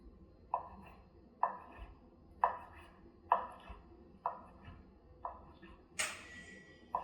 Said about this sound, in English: chop this up